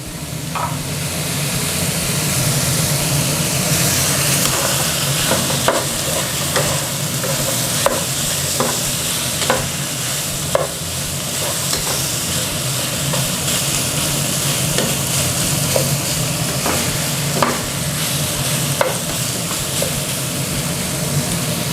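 Pork rib bones fry in a pot for red curry with a continuous loud sizzle throughout. Faint scattered ticks and pops sit above it, and there is no talk.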